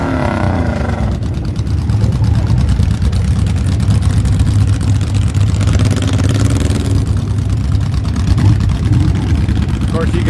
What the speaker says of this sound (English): I know I'm competing with some motorcycle pipes here